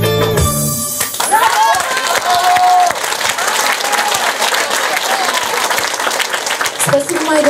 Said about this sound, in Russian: Спасибо еще раз и еще раз аплодисменты Елене Павловне.